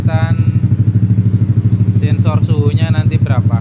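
A Yamaha All New Nmax 2020 scooter engine starts and settles into a steady, close idle with a regular pulsing throb, while someone talks over it partway through.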